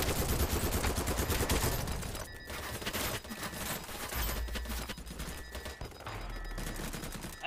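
Rapid bursts of video game gunfire, loud and close, firing in repeated volleys with short pauses across the whole stretch, like automatic weapons in a shooter match.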